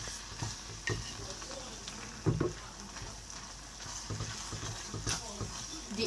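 Egusi soup is stirred with a wooden spoon in a pot, producing soft repeated scrapes and thick bubbling over a low steady sizzle, faint and close.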